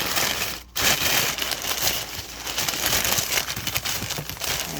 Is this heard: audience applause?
no